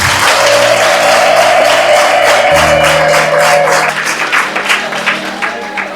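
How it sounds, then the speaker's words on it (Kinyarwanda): An audience at a graduation ceremony breaks into loud, sustained applause mixed with high ululation, the clapping dense and continuous before thinning toward the end. "Nimumumera amashyi n'impundu"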